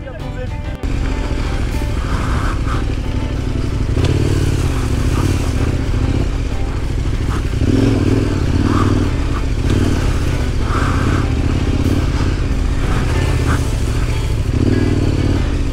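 A light off-road motorcycle rides a muddy trail in the Aveyron countryside, its engine droning steadily and loud throughout, rising and falling with throttle, with clatter and splashing underneath.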